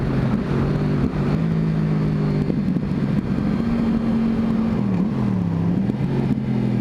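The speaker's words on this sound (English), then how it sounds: "You're doing clutch and giving it some throttle at the same time" A sportbike engine revved with clutch and throttle for a wheelie, a steady mid-loud drone that rises and dips in pitch as the throttle is worked, with no talk.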